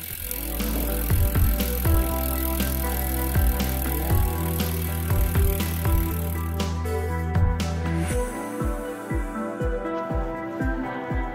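Campagnolo Shamal Mille wheels on an Officina Battaglin Power Plus steel road bike give off a rapid, steady freewheel hub clicking, close and clear, with sharp ticking throughout and a denser burst near the end.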